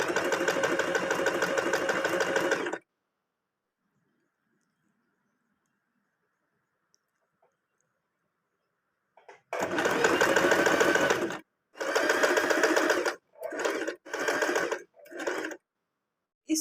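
An Usha sewing machine stitches a zigzag embroidery pattern: a close, steady whir for under three seconds, a long silence, then one longer run and several short stop-start bursts.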